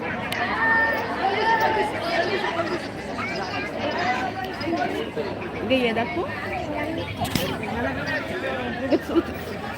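Crowd chatter fills the busy food hall of the Akkalkot Swami temple, a steady babble of many voices with a nearby speaker talking briefly over it.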